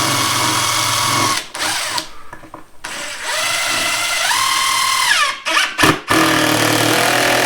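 Power drill driving screws into a folding table for a benchtop router table, whining loudly in long runs that rise and fall, with short pauses and brief bursts between screws.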